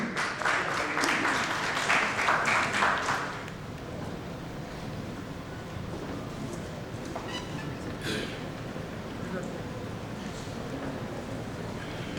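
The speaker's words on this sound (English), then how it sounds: "Can we have a huge round of applause for him?" Applause from a conference audience at the Mumbai Infrastructure Global Solution Summit 2018, dense clapping for the first three seconds that then fades into a murmuring hall with a few scattered claps and faint voices.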